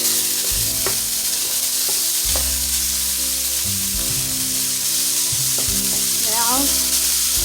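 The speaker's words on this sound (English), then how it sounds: "begin to crush the meat and mix in our green peppers, onions, and also" Ground meat fries with green peppers, onions and garlic for a meat sauce, making a strong continuous sizzle with occasional scraping stirs, close and loud over quiet background music.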